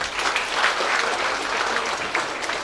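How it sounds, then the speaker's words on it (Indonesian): Seminar audience claps for Pak Ihsan, a warm, steady burst of applause from a crowd throughout the short stretch. "Tepuk tangan juga untuk Pak Ihsan."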